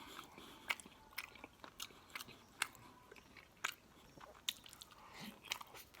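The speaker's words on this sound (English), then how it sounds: "Let's go ahead and take a bite." Bites into a Chipotle lifestyle bowl: soft crunches and wet chewing, close to the mic but faint, with several sharp crisp bites spaced irregularly.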